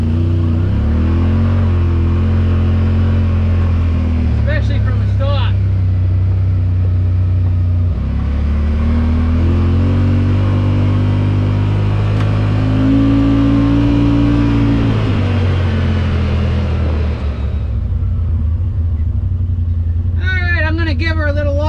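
A Yamaha Wolverine X4 side-by-side fitted with a JBS clutch sheave accelerates, its engine droning loud and steady close by for about twenty seconds, with pitch rising and falling as throttle changes.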